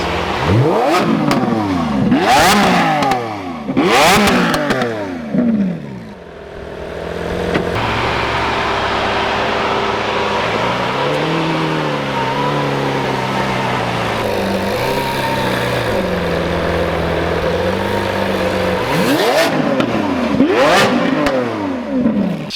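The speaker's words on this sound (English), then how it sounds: "Couple more revs just for the viewers." A Lamborghini Centenario Roadster's V12 engine revs hard in repeated sharp bursts, settling into a steady idle between them, then blipping loudly again near the end, close and without speech.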